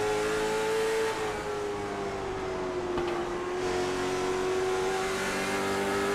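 A Late Model race car at North Wilkesboro, heard on board during a restart, roars with a loud, steady engine note that dips and climbs again as the throttle is worked, alone and close throughout.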